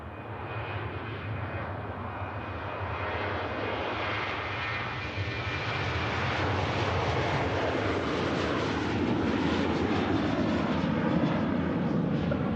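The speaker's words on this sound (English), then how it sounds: "the Virgin Atlantic A350 is now, as it would be, on taxiway Juliet" A Virgin Atlantic A350 airliner taxis at Manchester Airport, a steady broad jet-engine roar that swells gradually louder over several seconds, heard from a moderate distance with no voices.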